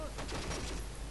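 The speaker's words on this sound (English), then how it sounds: "Now our tanks are shooting at it." Tank guns firing in the World War II strategy game Close Combat: Wacht am Rhein, a dense, steady roar of overlapping gunfire that fills the short stretch with no clear gaps.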